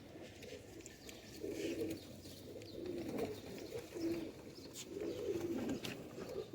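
Golden pigeons coo in soft, repeated rolling phrases, close and fairly quiet, with each bout rising and fading over a faint background hiss.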